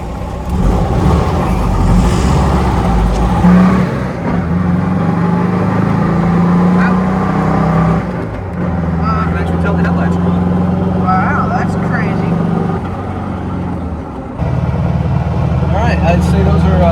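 A car drives along a road at night with newly fitted headlights, its engine and road noise making a steady, loud low drone heard from inside the cabin for the whole stretch.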